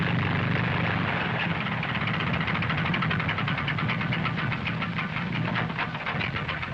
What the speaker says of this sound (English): my father pulls away for the takeoff to Everest